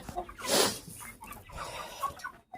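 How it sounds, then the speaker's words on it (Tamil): A guinea fowl gives a loud, harsh clucking call, followed by softer scattered clucks and rustling nearby. "கிண்ணி கோழி வந்துருச்சா கிரே கோழி கிரே கோழி வந்துருச்சு"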